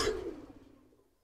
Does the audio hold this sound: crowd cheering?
no